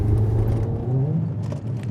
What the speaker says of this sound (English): This car is a different animal, and listen to it. It sounds so good